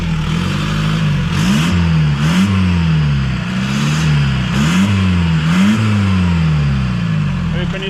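A Toyota MR2 Mk3 converted to a 1.9 TDI PD diesel engine runs close by, a loud diesel drone with repeated rev rises and drops as it boosts and shifts.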